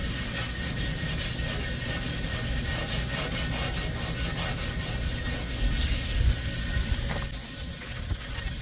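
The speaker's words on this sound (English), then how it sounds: "so we're just gonna sand it down and basically clean it up." Light hand sanding of a part from a RecTeq pellet smoker down to bare metal: steady, loud, continuous abrasive scraping and rubbing with a rapid back-and-forth rhythm, heard alone without speech.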